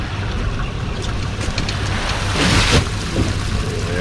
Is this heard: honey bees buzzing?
no